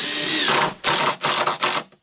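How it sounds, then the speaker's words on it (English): A power drill whines at high speed in several close, loud bursts, revving up and cutting off with short pauses between, pre-drilling the ends of treated lumber boards. "I've been pre-drilling the ends"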